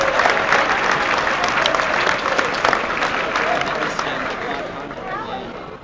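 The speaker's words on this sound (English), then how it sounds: "One more round of applause for those super fans." A high school assembly crowd in a gym claps loudly and steadily, dense applause mixed with some cheering and crowd chatter, gradually tapering off toward the end.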